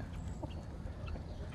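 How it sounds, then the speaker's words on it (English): Hens, Brahmas among them, cluck softly in a farmyard flock kept with geese; quiet, scattered low clucks with no talking. "Still got all your hens."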